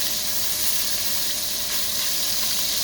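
Chicken sausage sears in a hot pan with a steady, dense sizzle, close and fairly loud, continuous with no talking.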